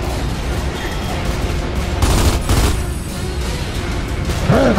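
Sniper rifle fire in the video game Gears of War 2, loud continuous gunfire and booms over a dense game soundscape.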